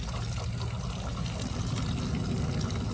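Water pouring and trickling out of a container while pon substrate is rinsed outdoors, draining onto the ground in a steady, continuous stream that stays close and fairly loud throughout.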